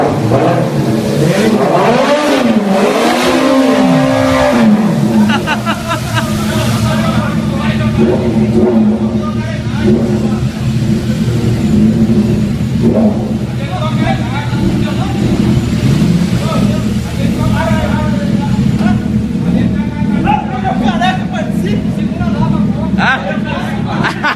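Several sport motorcycles, among them a Suzuki, a Honda CBR and a Ducati, start up and rev loudly at a crowded outdoor event, their engine roar sustained and rising, with crowd chatter mixed in throughout.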